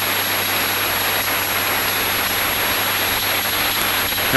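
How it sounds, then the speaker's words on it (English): Piper Cub airplane engine running under power on a runway, a loud, steady broadband roar holding evenly throughout with a brief louder burst at the very end. "Put a little power in to get down the runway."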